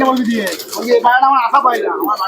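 Teddy pigeons cooing in soft, repeated rolling calls, close and continuous through the clip, with several birds overlapping.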